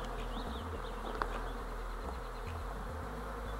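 Honeybees buzz in a dense, continuous drone during orientation flights at the hive entrance, with individual bees whining closer past the microphone now and then, no talking.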